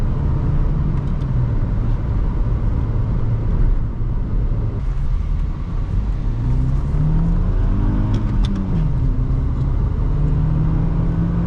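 A 2006 Honda Accord SE with the 2.4 liter engine and five-speed manual gearbox is heard from inside while driving, a steady low engine drone and road rumble with pitch rising and falling as it accelerates and shifts.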